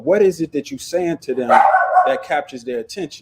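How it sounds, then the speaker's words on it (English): A pet dog barks indoors in a home, several sharp barks mixed in and partly masked under a man's ongoing conversation. "I'm sorry about the dog."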